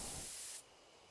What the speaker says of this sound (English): Carefully take aim and spray the drug.